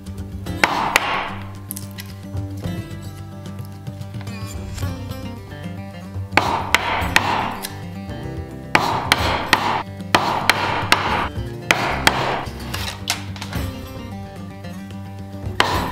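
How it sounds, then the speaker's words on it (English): A chisel is struck into wood while cabinet faces are shaped, giving repeated sharp whacks and taps in irregular clusters, close and clear with no talk. "we'll just keep working our way in with the chisel"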